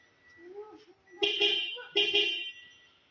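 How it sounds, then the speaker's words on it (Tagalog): Two loud, blaring horn blasts from a Toyota Hiace Commuter van with an interrupter relay and Bosch 30-amp relay, close by, each about half a second long, following some quieter electronic tones. "Interrupter relay para sa busina. Testing."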